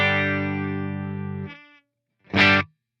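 An electric guitar runs through a Line 6 Helix with a distorted, effects-heavy sustained note that cuts off abruptly as the reverb is bypassed, followed by a short, dry, loud strummed chord.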